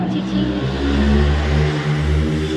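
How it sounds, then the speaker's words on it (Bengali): A car engine runs close by with a loud, steady low rumble that swells slightly as it revs, holding throughout without pause. "গাড়ির আওয়াজ"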